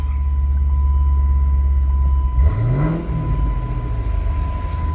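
A 2012 Dodge Challenger SRT8 392 with a six-speed manual and Corsa RSC exhaust rumbles steadily up close, then gives one quick, rising rev that swells and falls back to a deep, even burble.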